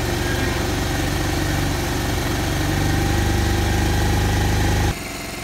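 A carburetted engine idles at about 1000 rpm after carburettor tuning, a loud, close, steady, vibrating hum that drops abruptly in level near the end.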